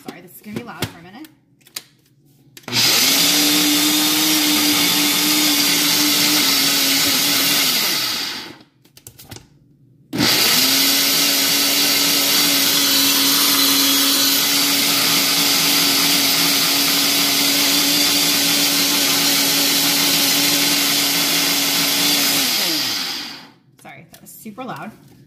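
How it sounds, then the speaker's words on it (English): A Ninja blender blends a shake, running loud and steady in two long bursts with a whirring motor tone and a brief pause between, heard close with no talk over it. "And I put it on my Ninja mixer. Sorry, this is gonna be loud for a minute."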